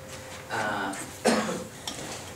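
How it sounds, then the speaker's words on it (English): A sudden cough bursts out once, fairly close, between soft clattering and rustling noises. "I have this crazy cough."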